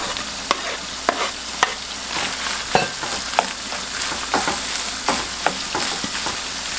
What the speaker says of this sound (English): when this starts frying up a little bit